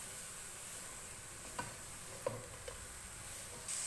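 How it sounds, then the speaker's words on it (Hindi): Carrots for gajar halwa cooking in a pan over a medium flame, a faint, soft sizzle with a few light scrapes and taps of stirring, quiet and close. "इनको 5 मिनट के लिए बस ऐसे ही पैन में पकाएंगे।"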